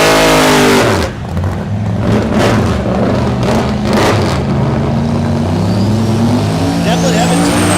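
A Corvette makes a drag racing pass down the strip at Thunder Valley in Noble, Oklahoma, its loud engine roaring and rising in pitch through the gears, with a track announcer talking over it.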